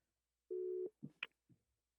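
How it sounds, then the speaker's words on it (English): A telephone tone on a call sounds as a single steady electronic beep of under half a second, followed by a few faint clicks and soft handling noises. "okay, it's ringing"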